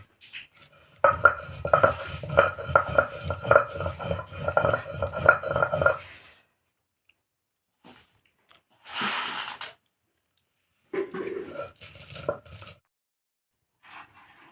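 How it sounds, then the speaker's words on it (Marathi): Cardamom pods crushed by hand with a stone or pestle, giving a burst of close, rhythmic cracking and grinding knocks, then silence broken by two shorter bouts of rustling and crunching. "मम्मीनं विलायची घेतली, ठेसून घेते त्याला."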